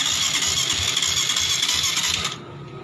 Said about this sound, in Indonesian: Ini motor kendalanya di starter susah hidup